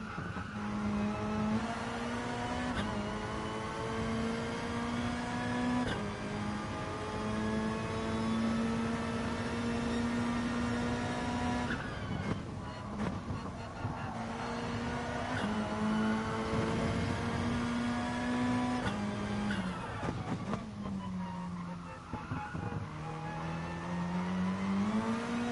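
A GR3 race car engine at Brands Hatch in a racing video game, droning steadily at high revs with repeated shifts and pitch dips through corners, loud and continuous without talk.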